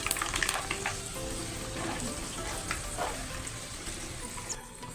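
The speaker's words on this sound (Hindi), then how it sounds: "तो अभी यहाँ पर तेल गर्म हो चुका है, तो मैं यहाँ पर मेथी डालूँगी, दाना मेथी" Fenugreek seeds crackle and sizzle in hot oil, a continuous close frying hiss with brief louder spatters near the start, steady and without talk.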